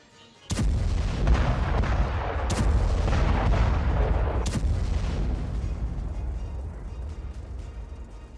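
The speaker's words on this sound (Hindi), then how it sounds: "विस्फोटक लदी गाड़ी में जोरदार धमाका हुआ" A car packed with explosives detonates near the Frontier Corps headquarters in Quetta. One sudden, heavy blast is followed by a long, loud rumble that slowly fades, with a few sharper cracks a couple of seconds apart.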